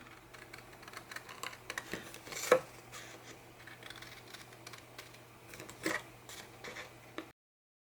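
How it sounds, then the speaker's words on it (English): Scissors snip through the paper back layer of petals for layered paper art, producing two sharp, close cuts among soft rustles and small handling clicks over a faint steady hum, with no speech. "Okay, so I'm going to cut that out now."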